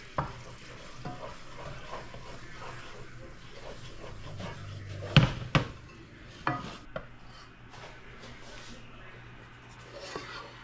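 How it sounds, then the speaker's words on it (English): Powdered sugar being stirred into a Kahlua brownie mixture in a pot: a soft, steady scraping swirl with a few sharper knocks of the utensil against the side, close and fairly quiet. "now let's mix in the 2 1/4 cups of powdered sugar"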